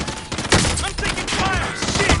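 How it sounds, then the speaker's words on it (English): Rapid bursts of video game gunfire crackle through a busy, dense mix, close and loud, with the shots running together over the full stretch alongside other game effects. "I'm taking fire."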